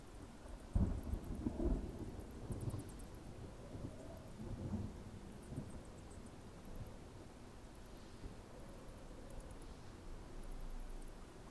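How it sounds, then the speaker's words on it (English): Thunderstorm in the fantasy strategy video game SpellForce 3: a low rumble of thunder with a sharp crack early on, over steady rain-like hiss, moderately loud and continuing in the background. "A storm."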